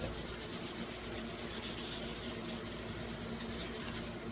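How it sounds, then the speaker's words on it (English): Steady close rubbing and scraping as a rusty jack knife is polished, a continuous gritty abrasive hiss with a faint rhythmic pulse throughout, no voices. "Especially when you're doing polishing."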